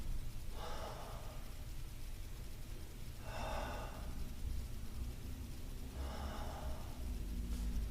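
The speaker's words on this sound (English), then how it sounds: "3 deep breaths." Three slow, deep breaths taken during an exercise session, each a soft, airy exhale spaced a few seconds apart over a low background hum.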